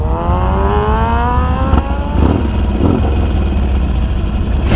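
A high-mileage dirt bike engine revs up hard, its pitch climbing steadily and loudly close by, then holding a rough, busy drone with no talking.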